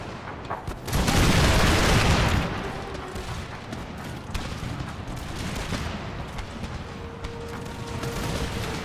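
Massed musket volleys from Kizilbashi musketeers and British line infantry crackle in a dense, loud burst early on, followed by scattered continuous gunfire and battlefield din in an Empire: Total War battle.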